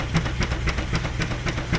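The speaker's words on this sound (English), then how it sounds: "steam's going to go back and forth, boom, boom, boom, boom, making the motion and making the engine go" A steam traction engine running, its piston exhaust chuffing in a steady rhythm of about four beats a second over a continuous low mechanical rumble and hiss, loud and close with no talking.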